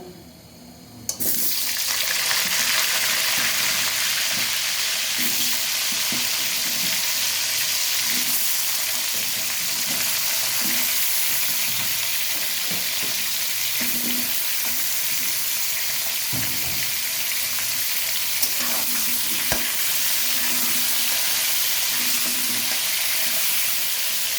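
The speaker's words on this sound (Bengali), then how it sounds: "আলু ভেজে নেব" Potatoes sizzle and crackle loudly in hot soybean oil, starting abruptly and continuing as a steady hiss with occasional stirring clinks.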